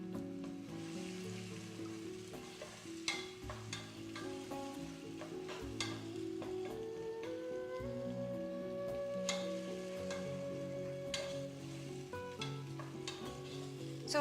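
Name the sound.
onions frying in a pan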